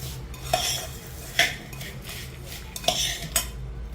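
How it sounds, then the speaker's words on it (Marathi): Spoon scraping and clinking against a bowl while bhel, a puffed-rice snack mixed with tamarind pulp, is stirred round and round, with several sharp metallic ticks spaced through a soft rustling background. "ह्या भेळला थोडं मिश्रण हलवताना व्यवस्थित हलवावं लागतं।"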